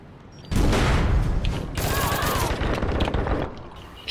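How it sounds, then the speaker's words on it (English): Sustained automatic Tommy gun fire in the online shooter APB: Reloaded, a loud, dense rattling burst starting abruptly and continuing for several seconds alongside other crackling game effects, with a voice faintly present. "Tommy guns behind us"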